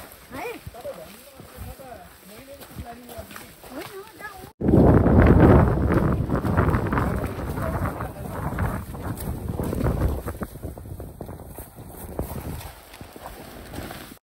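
Strong mountain wind buffets the microphone in a loud, rumbling roar that starts abruptly and keeps gusting, with quieter sounds and voices before it, on Bukhansan Mountain, South Korea.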